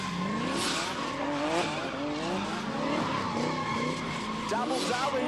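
A car spins double doughnuts at a Kooralbyn Valley street drift day, its tires squealing and skidding continuously while the engine revs hard. Voices can be heard in the background.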